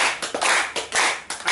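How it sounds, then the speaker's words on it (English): A group clapping hands during an online course session, a short burst of several distinct, fairly loud claps in an uneven rhythm, without talk. "When I say put your hands together and clap, put your hands together and clap."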